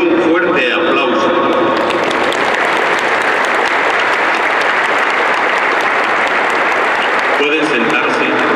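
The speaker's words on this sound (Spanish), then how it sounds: "Brindémosle un fuerte aplauso." Sustained, loud applause from a large audience at a school ceremony, a dense wash of clapping that continues throughout, with a voice speaking over it at the start and again near the end.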